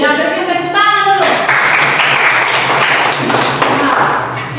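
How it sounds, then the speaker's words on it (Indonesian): Students in a classroom clap their hands together in a steady, dense burst that lasts several seconds after a brief spoken prompt, fairly close and loud throughout. "Ya, berikan tepuk tangan dulu."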